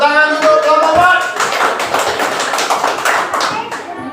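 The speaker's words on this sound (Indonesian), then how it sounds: "Tepuk tangan untuk kelompok 4." A classroom group of students claps together for another group, a dense burst of applause that follows a teacher's voice and keeps going loud and close for several seconds.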